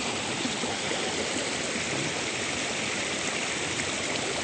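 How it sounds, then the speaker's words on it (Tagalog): Strong water flow overflowing a fishpond rushes steadily with a dense, even roar and no pauses, loud and close, without voices. "Malakas kasi yung volume ng tubig mga kababayan."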